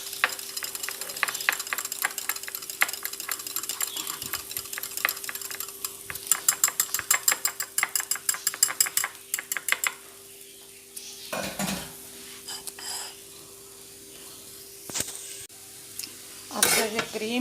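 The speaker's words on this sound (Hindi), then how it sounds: "ये मेरे पास ये क्रीम है इतनी सी, जिसे मैं उसी दही वाली बॉल में जो है मैं मिक्स कर रही हूँ" Cream gets stirred into yogurt in a bowl, a spoon scraping and tapping the sides in quick rhythmic bursts, then a pause followed by scattered louder clinks and scrapes near the end.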